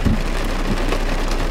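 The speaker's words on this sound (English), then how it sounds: "It's raining. Yeah, it's a lot of rain now." Heavy rain pours down in a steady, dense hiss that holds evenly from start to finish, with no voices over it.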